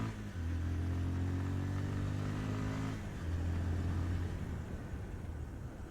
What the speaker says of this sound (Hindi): जल्दी जल्दी मोटरसाइकिल को भगाते हैं, इस दौरान कोई गाड़ी आ ना जाए।